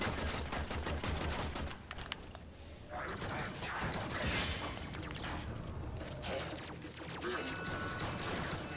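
Gunfire in the video game Warframe, with rapid shots and mechanical clatter running throughout at a steady moderate level amid busy game noise.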